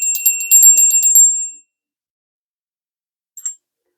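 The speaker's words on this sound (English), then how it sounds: "We're going to ring the bell" A bell rung at the start of a psychic tarot reading gives a quick series of bright, high metallic rings. They stop after about a second and a half, and one short faint chime follows a little later.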